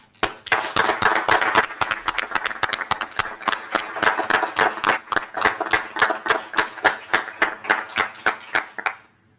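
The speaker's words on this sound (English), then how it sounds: "a little round of applause for Heather" A smaller group at a village council meeting claps in distinct, fairly rhythmic strikes, close and crisp, gradually thinning and tapering off toward the end.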